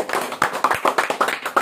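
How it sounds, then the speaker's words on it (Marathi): A few people clap at a birthday celebration at a farmhouse in Palghar, with short, uneven sharp claps in a quick burst, close and fairly loud. "टाळ्या."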